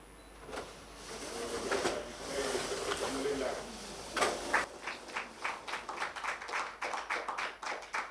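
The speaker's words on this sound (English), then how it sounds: "We can give them another round of applause" Audience at a formal logo unveiling ceremony breaks into applause after someone speaks at a podium, scattered claps growing into a steady round, moderately distant in the hall.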